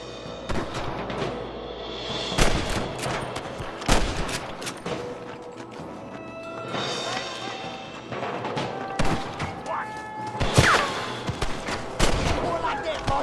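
Gunfire in the Western video game Red Dead Redemption: a battle of repeated sharp rifle and pistol shots, irregular and overlapping, some close and loud, others further off, with voices shouting in among them.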